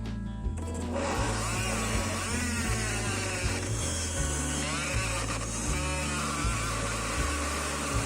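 A blender motor whirs steadily at high speed, loud and close, blending a cassava mixture, with a buzzing drone that shifts pitch slightly in pulses as it keeps running without pause.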